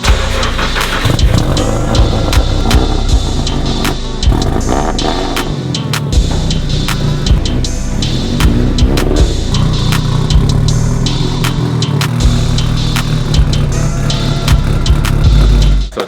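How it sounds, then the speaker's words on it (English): A built SR20-powered car runs hard on a chassis dyno, its engine droning loud and steady throughout with a dense, continuous roar and little variation, no voices heard over it. "We're ready to get this thing, you know, hooked up to the dyno and make some power."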